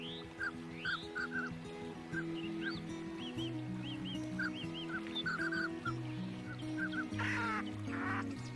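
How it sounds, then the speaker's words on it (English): Mandarin ducks call beside a Siberian river, with repeated short quacks and honking notes scattered over a steady background of overlapping bird calls and water noise. "The mandarin duck is a species that represents the beauty of Siberian fauna."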